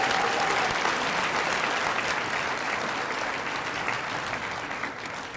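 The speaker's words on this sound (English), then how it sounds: "Round of applause for the Mountain Ridge Middle School athletes." A luncheon crowd at a girls and women in sports event gives sustained, dense applause for middle school athletes, a loud, even wash of many clapping hands that tapers slightly toward the end.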